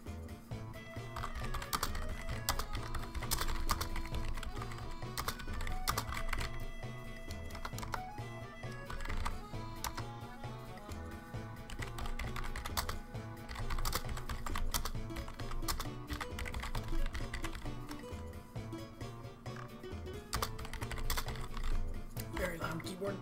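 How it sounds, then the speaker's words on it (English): Continuous loud clattering of computer keys, fast and steady typing over a background music bed. "Very loud keyboard."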